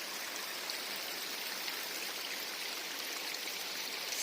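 A river flows through Brignall Banks Woods in County Durham, a constant, broad rushing hiss of water that is steady and unbroken throughout, with no voices.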